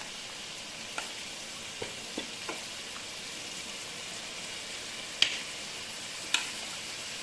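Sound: chicken pieces frying in a pan for butter chicken

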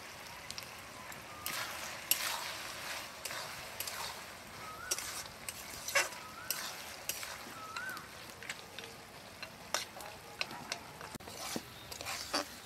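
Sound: stirring bottle gourd with fried lentil dumplings in a pan

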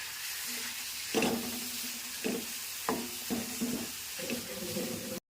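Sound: clams with tomato roasting and being stirred in a pan

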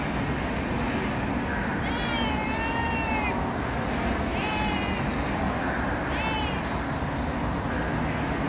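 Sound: stray cat meowing inside a mall

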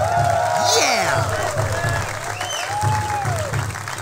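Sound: crowd cheering and applause in Inuyasha video game

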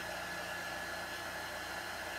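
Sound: heat tool drying chalk paste

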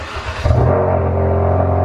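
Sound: car engine cold start

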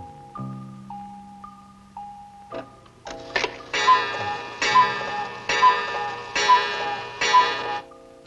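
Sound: old-time alarm clock ticking

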